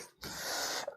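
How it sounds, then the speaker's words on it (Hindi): A single close, breathy cough from a man bursts out and lasts under a second, fairly quiet and heard alone. "थोड़ी खांसी हो गई पढ़ा पढ़ा के।"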